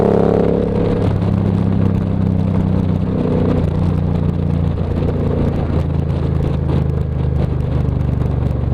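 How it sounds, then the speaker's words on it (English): A Suzuki C50 motorcycle with Vance & Hines cruiser exhaust using stock baffles rumbles loudly and steadily close by on the road, with a deep engine drone that shifts pitch as it rides along and no one talking. "As you can probably hear, the bike has Vance & Hines cruisers, which sound great."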